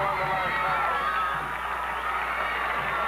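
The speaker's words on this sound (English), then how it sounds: "Listen to the crowd." Crowd cheering at a high school football game, a dense continuous roar of voices and shouts at a distance, steady throughout.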